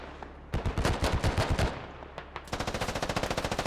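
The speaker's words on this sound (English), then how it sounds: "Russell DeJimmies gets shot through a window by Appa" Gunfire rings out in the Squad military shooter as a player is shot through a window: a cluster of loud, close shots, a brief lull, then a fast, steady burst of automatic fire.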